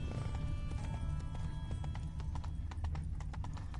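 Hooves of Roach, a horse in The Witcher 3: Blood & Wine, clip-clop in a steady galloping rhythm close by, with a brief whinny over a low rumbling game ambience.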